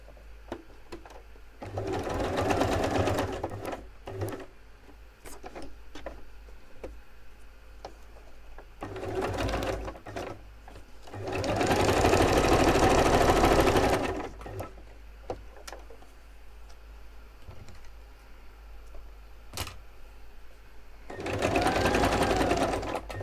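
Sewing machine stitching lace and paper ephemera for an altered notebook, running in several loud, close, steady whirring bursts of a few seconds each, separated by quieter pauses with small handling sounds.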